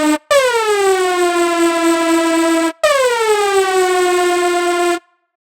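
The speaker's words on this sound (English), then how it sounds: "Dubstep siren Hoover." A dubstep siren Hoover preset on the Nerd Synth iPad synthesizer plays two long, loud, buzzy tones, each swooping down in pitch at the start and then holding steady, with a short gap between them.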